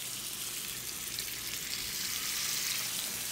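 Peppercorn-crusted sirloin sizzles in a preheated pan with extra virgin olive oil, a steady, dense hiss of frying that holds evenly throughout with no talking.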